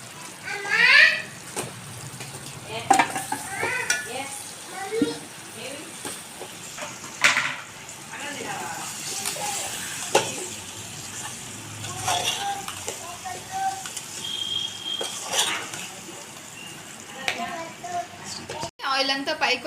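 Chicken sizzling in oil in a pan while being fried for a chicken roast, a steady crackle with occasional stirring clinks, close and moderately loud under a person talking.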